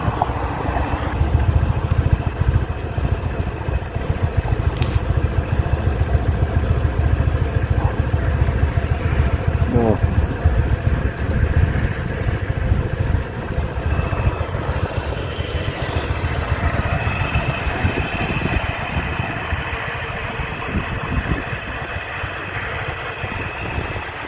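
A small motor scooter engine runs steadily with a buzzing, pulsing drone and wind rush, close and continuous throughout.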